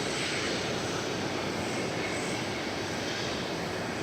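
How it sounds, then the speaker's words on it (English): A jet airliner arriving at DFW Airport on a flight from San Angelo, a steady loud broadband engine roar with a faint high whine, heard without talk. "we're about to see the arrival of the flight from San Angelo"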